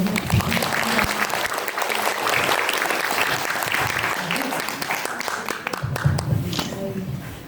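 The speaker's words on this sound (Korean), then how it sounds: "김보라 감독님을 모셨습니다. 큰 박수로." An audience at a film screening gives director Kim Bora a warm round of applause, a sustained, dense clapping from a crowd with voices mingling underneath.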